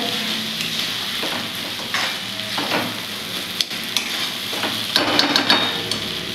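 An egg bhurji base with red chili and coriander in a pan is stirred with a sizzling fry underneath, and a spatula scrapes and taps against the pan in irregular bursts close by. Nobody speaks.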